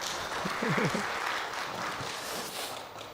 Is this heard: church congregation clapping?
yes